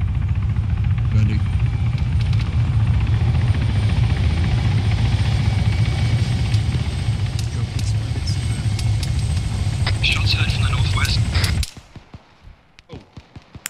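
Helicopter in the Arma 3 video game, a loud steady rotor and engine roar that runs for most of the clip and cuts off abruptly near the end, followed by sparse clicks and thuds. Players talk over it.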